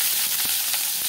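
Cumin, lentils and chopped onion sizzling in hot oil as a tempering for greens, a brief dense hiss with faint crackles, close and steady.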